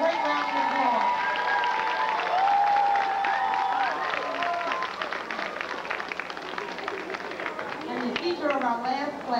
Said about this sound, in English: Give group one from site one a great round of applause.